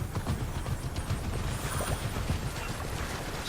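Horses in the video game Immortals Fenyx Rising, with steady soft clip-clop hoof sounds and shuffling over a continuous low ambient bed, no speech.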